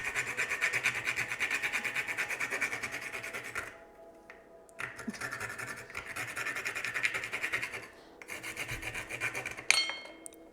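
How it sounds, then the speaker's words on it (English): A spice is rubbed on a hand grater for masala chai, giving a steady, close scraping rasp that pauses briefly twice and then resumes, soft and alone with no talking. "So I'm just gonna grate this"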